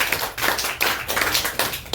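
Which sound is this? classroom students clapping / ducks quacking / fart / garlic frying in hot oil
classroom students clapping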